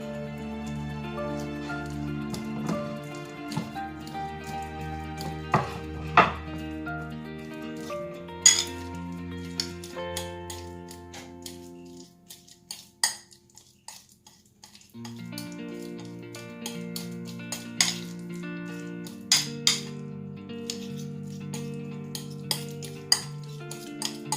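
Bananas being mashed for pancakes with a spoon or fork in a bowl, giving repeated clinks and scrapes of cutlery against the dish over steady background music.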